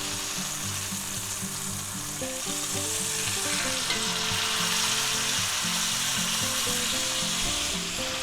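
A chuck roast sears in a pan just after being flipped, giving a loud, steady, close sizzle and hiss that runs unbroken with faint background music beneath it.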